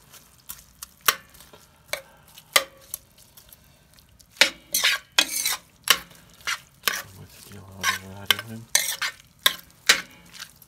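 Seafood sizzles in a pan for pasta while a utensil stirs and scrapes, giving irregular bursts of clatter and crackle over a soft frying hiss; no talking.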